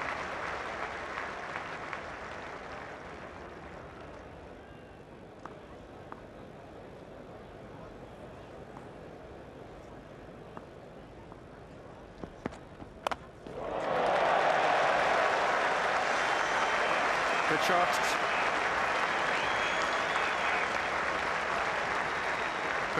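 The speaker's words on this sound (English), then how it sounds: "Great surge of applause as Atherton breaks the chains and plays a really free pull shot through mid-wicket" Spectators at the 1995 England vs West Indies Test at Old Trafford murmur quietly with scattered claps, then break into a sudden, loud surge of sustained applause after Atherton's pull shot through mid-wicket.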